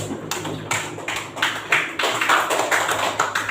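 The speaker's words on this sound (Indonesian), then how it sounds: "Tepuk tangan untuk pertanyaan temannya dulu." A group claps together in a burst of irregular applause, building in the middle and continuing to the end, fairly close.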